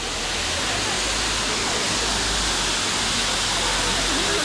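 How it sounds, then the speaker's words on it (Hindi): A waterfall at Pachmarhi pours continuously in a steady, broad rushing roar that stays loud and even throughout, with no distinct pauses. "पीछे झरना दिख रहा है"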